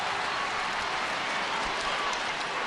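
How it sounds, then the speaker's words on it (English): Waterford supporters roar and applaud at a 2009 All-Ireland hurling quarter-final against Galway, a dense, steady wall of crowd cheering and clapping that fills the whole stretch without a break. "And Waterford supporters have finally got something to cheer about."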